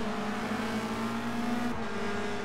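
Renault Clio Cup race cars roar around the Truxton circuit, a steady loud engine drone with sustained tones and a brief pitch shift as a car changes gear.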